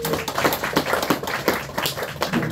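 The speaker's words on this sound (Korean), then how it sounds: "한번 박수로 마무리하겠습니다" Audience clapping to close an academic study-strategy information session, with dense, steady, close applause from a room of listeners throughout, no voices over it.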